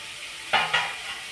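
A vegetable bhaji fries in an open pot, and two quick stirring scrapes break through a soft background sizzle.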